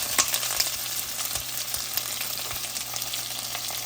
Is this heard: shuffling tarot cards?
no